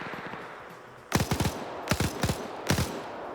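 An MG42 machine gun fires in a video-game battle, in four short loud bursts of several rounds each, separated by brief pauses over a low rumbling background.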